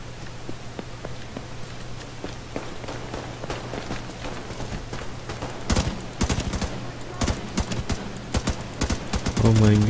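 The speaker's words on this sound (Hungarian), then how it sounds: "Valaki lövöldözik itt." Rapid bursts of gunfire in the video game The Division 2, sharp cracking shots in quick clusters growing louder and denser over a steady background hum, with a player's voice intermittently audible.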